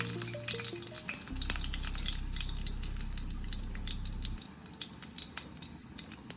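Fennel seeds dropped into hot oil in a pan for a cashew chicken gravy, giving a loud, steady close-up sizzle and crackle with small stirring clinks and drips.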